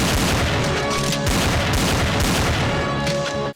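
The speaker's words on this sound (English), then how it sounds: "We shot guns." Dense, loud bursts of gunshot sound effects from a home-made childhood video crackle and boom almost continuously, then cut off abruptly at the end.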